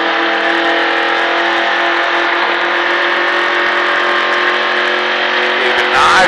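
A NASCAR stock car accelerating on a track at the Richard Petty NASCAR Experience, a loud, sustained, close engine roar that holds steady and then rises slightly near the end.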